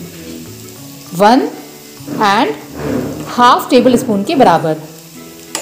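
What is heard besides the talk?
sizzling green chilies and ginger-garlic paste frying with onions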